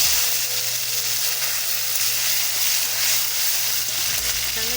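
Sizzling from a tomato dropped into hot oil tempered with spices, a steady close frying hiss throughout for a Bengali egg and brinjal malai curry, with no talk.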